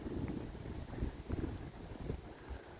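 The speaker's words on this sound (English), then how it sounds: "as you can hear, the wind is blowing" Gusty wind blowing outdoors on a cool day in Omaha, Nebraska, a steady broadband rumble with stronger gusts buffeting the microphone, with no talking.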